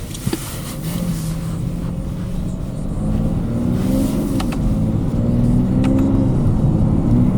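A 2017 BMW 335d M Sport diesel accelerates hard from inside the cabin, its engine note climbing steadily and stepping through smooth gear changes, loud and continuous.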